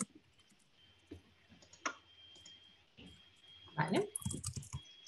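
An email address typed on a computer keyboard: scattered soft key clicks, close and quiet, with a brief spoken word early on and a burst of faster typing near the end.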